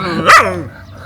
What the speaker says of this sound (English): Hey, what are you barking about, buddy?